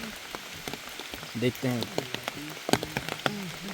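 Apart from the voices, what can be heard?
heavy rain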